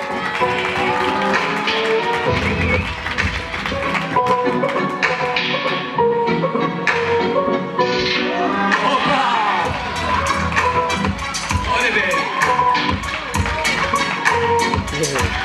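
An audience at a children's tricking championship in Israel cheers and claps steadily and loudly throughout, with dense overlapping applause, shouting and an announcer's voice mixed in.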